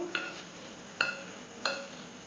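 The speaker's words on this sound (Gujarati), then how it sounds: "આ બધા ભીંડાના સ્લાઈસ તેમાં એડ કરી દઈશું અને તેમાં મિક્સ કરી લઈશું" Sliced okra (bhindi) being mixed into flour in a bowl for kurkuri bhindi: three light spoon clinks against the bowl with soft stirring between them, close and quiet, no talking.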